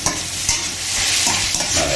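Colored bell peppers fry loudly in a pan, a dense close sizzle and crackle with small pops and stirring sounds running without a break.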